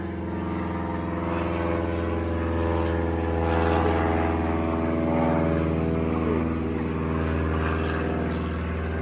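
A propeller airplane drones steadily overhead, a low humming engine tone that swells slightly in the middle and stays continuous throughout.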